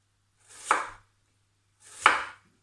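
Two crisp, separate slices of a big kitchen knife cutting down through an onion, each a short crunch ending in a soft tap on the board, about a second and a half apart, close and clear with no talking.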